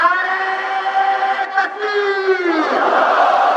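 At a 2019 Ashura procession in Gilgit, near a mosque, a single amplified, echoing voice draws out a religious slogan. A crowd then answers in a broad chanting roar.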